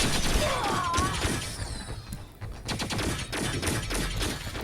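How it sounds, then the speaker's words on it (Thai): Gunfire in T3 Arena, a mobile team shooter, rattles in close rapid bursts mixed with shattering impacts and a rising whistle, the volleys broken by a brief lull before firing resumes. "เขายิงใครเลย"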